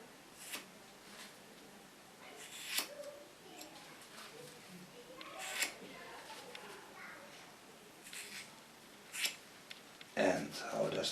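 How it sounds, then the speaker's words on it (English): Long hair being cut with ordinary scissors at a salon, giving scattered crisp snips spread irregularly across the stretch, fairly faint, among soft room noise and a burst of closer handling near the end. "The first line I'm going to cut is with a normal scissor."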